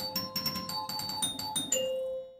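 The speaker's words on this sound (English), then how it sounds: "I like listening to the chimes start" Electromechanical chimes of an Eight Ball pinball machine ring out at the start of a four-player game, a quick run of about eight bright, ringing dings that ends in one longer sustained tone fading away.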